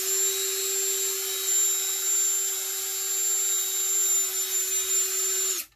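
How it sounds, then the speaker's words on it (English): A cordless drill spins a cleaning rod inside a shotgun barrel, a steady high-pitched motor whine with a constant hum that runs unbroken for several seconds before cutting off abruptly. "Take my cordless drill, tighten it on there."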